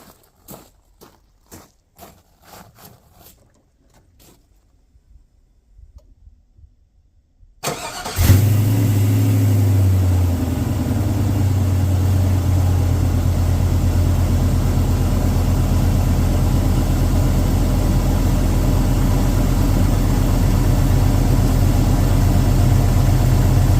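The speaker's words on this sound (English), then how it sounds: "you just turn the key, let the fuel pump prime, and these things just fire right off" A 1960 Jeep Wagoneer with a carbureted engine starts from cold on a spring day. Several faint clicks and a quiet pause come first, then the engine fires abruptly and settles into a loud, steady idle that continues to the end.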